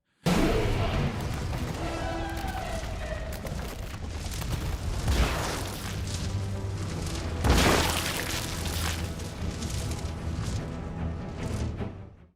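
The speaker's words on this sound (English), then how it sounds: "He picks up the rocket launcher and fires one straight into Mr. X, which completely obliterates his torso." A rocket launcher round slams into Mr. X in a Resident Evil game, producing heavy booming blasts, with one burst near the middle and another a few seconds later, amid a loud, dense wash of in-game sound.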